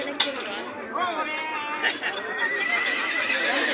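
A horse at a village horse fair lets out a loud whinny close by, with more neighs following amid people talking and chattering in a busy crowd.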